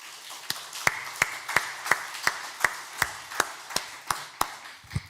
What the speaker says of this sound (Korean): 격려하는 박수 한번 하겠습니다.